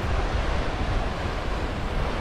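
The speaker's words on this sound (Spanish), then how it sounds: "y para allá está el mar." Sea waves on a beach make a loud, steady roar of surf mixed with heavy wind buffeting, continuous and without talk.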